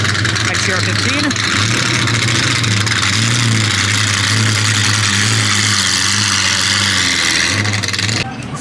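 A Jaguar car's engine revs as it drives past at an auto show, a loud, steady low rumble lasting about eight seconds, with voices and crowd noise around it.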